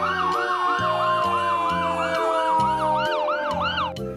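A loud wailing ambulance siren cycles rapidly up and down, steady and close, with a low rhythmic horn-like pulse underneath.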